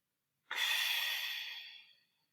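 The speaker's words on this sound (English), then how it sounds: "And then simply breathe. Inhale and exhale." A single slow, close breath during a restorative yoga session: a soft airy rush that starts abruptly and fades gradually over about a second and a half, alone in silence.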